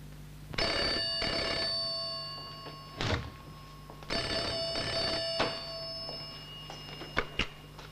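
Old-style telephone bell ringing in bursts, two long rings separated by a pause, then a brief clunk of the receiver being lifted, heard indoors in a 1969 television drama setting.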